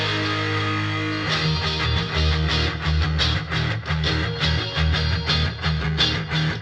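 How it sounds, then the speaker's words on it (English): Layered electric guitars in a rock mix: a clean rhythm part rings alone at first, then a lower, heavily distorted guitar joins with chugging, driving chords, both thick and loud together without any talking. "Then later the lower distorted electric comes in"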